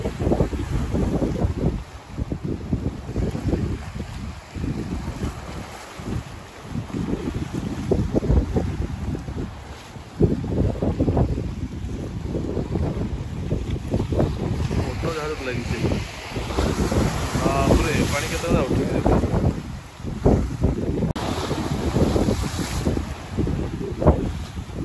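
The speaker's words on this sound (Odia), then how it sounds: "ପୁରୀ ଭଳିଆ ଲହଡ଼ି ନାହିଁ, ଛୋଟ ଛୋଟ ଲହଡ଼ି ଅଛି।" Small sea waves wash at Paradeep port in Odisha under heavy wind buffeting the microphone, a steady roar of surf and gusts that lasts the whole stretch.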